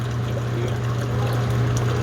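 Water running steadily out through a boiler drain valve that is stuck open and won't close, a constant loud rushing pour with a low hum underneath, no breaks across the whole stretch.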